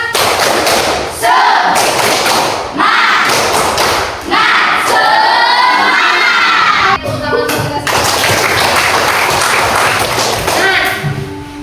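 Schoolchildren in a classroom clap a rhythmic ice-breaker pattern together, loud, close bursts of claps and thumps under continuous chanting and a teacher's voice leading the routine.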